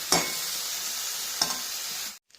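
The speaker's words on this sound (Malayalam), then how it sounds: "എന്നിട്ട് അരപ്പുമായിട്ട് ഇളക്കി യോജിപ്പിക്കാം." Lololikka (lovi-lovi) fruit for pickle is stirred into spice paste, giving a steady close scraping rustle with two sharper strokes, before it stops abruptly.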